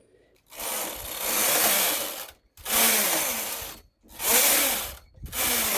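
A knitting machine carriage sweeps back and forth knitting rows with full needles at tension 7. Each pass is a loud, close rushing clatter lasting about a second and a half, separated by short silent gaps in a repeating rhythm.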